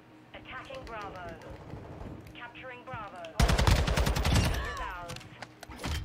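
Call of Duty MW2 ranked match gunfire, loud bursts of rapid shots breaking in partway through and continuing over voice chat, with players talking throughout.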